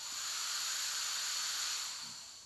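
Propane gas hisses steadily out of an opened valve on a pressurized container, a loud, close, continuous rush that swells and then eases slightly toward the end.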